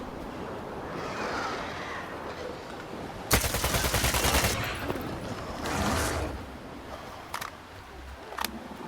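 A long burst of rapid automatic gunfire in the video game STALKER 2: Heart of Chornobyl, loud and close, followed by a few scattered single shots over a noisy game background.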